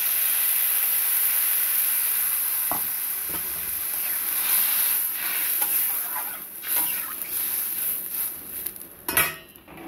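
Water poured into a pan of frying potatoes and ginger, bursting into a loud hiss and sizzle with metal utensil clinks and scrapes, close up, a sharp surge near the end.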